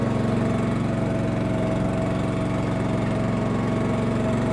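A top dressing machine's engine runs steadily as it drops sand onto turf, a constant close mid-pitched drone with a faint mechanical whine and no break, with no voices.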